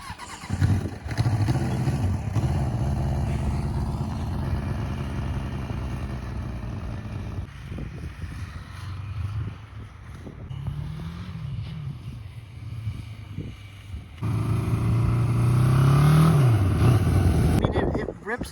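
A worn, used superbike engine revving and idling, a rough low rumble that rises and falls, swelling loudly near the end, with people talking nearby and wind noise over the microphone.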